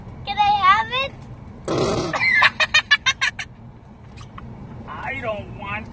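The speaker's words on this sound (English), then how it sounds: "That's you farted." Whoopie cushion let off with a loud, sputtering fart noise in a car, a burst near the middle followed by rapid pulses, with someone talking before and after.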